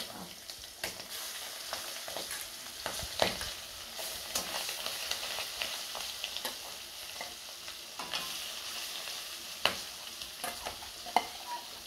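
Chicken and liver fry in a pan with spices, a steady busy sizzle and bubbling broken by repeated clinks and scrapes of a stirring spoon, close and moderately loud, no one speaking.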